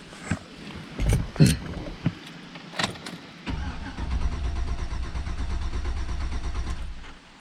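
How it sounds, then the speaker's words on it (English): A Chevy/GMC 5.3 V8 engine cranks in a few short bursts, then catches and settles into a steady, close idle that runs on through the rest. "So you start it up until it stalls, and then as you can crank it a little bit"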